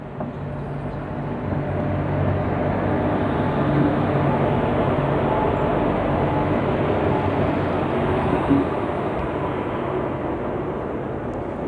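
The Darjeeling Mail passenger train pulling out of the station, a steady broad rumble and rolling roar heard from inside, continuous and fairly loud without distinct clanks or voices.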